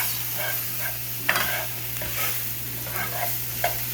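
Food with paprika sautéing in a pan gives a steady close sizzle, broken by several scraping stirs and spatula knocks, with no one talking.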